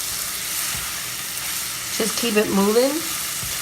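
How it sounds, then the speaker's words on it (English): Food frying in a pan while cooking keto Thanksgiving dishes, a steady close sizzle running throughout, with a brief spoken remark partway through. "we got some sizzle going on. I like it. I love the way that sounds when you're cooking"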